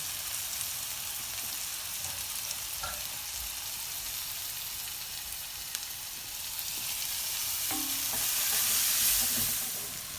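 Green pepper sautés with cumin seeds and salt in a pan for Mumbai-style pav bhaji, giving a continuous close sizzle with faint stirring, swelling slightly louder near the end.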